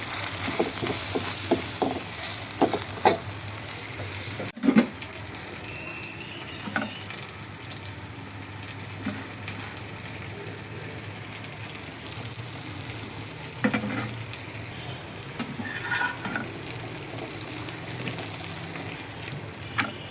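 Roti flatbread frying in a pan makes a soft, continuous close sizzle, broken by a few light taps and clicks of handling, with no one speaking.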